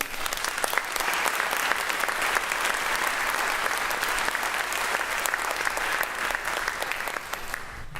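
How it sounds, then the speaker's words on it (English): Sustained applause from a crowd for cadets at a Marine Corps JROTC change of command ceremony, dense steady clapping filling the whole stretch without pause. "Please, ladies and gentlemen, I'd like a round of applause for the cadets."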